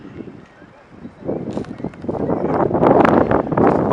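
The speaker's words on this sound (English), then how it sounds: "this concludes your tour here, and it's freaking windy" Strong wind blows across the docks in Old Montreal where cargo ships are moored, gusting and rumbling against the microphone and building louder toward the end, with faint background sounds underneath.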